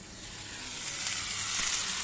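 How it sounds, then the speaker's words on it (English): A sous vide ribeye steak sizzles on a hot griddle, a steady bright hiss of searing fat that swells slightly louder as it goes on, with no talking. "So it's about time to throw in the steak."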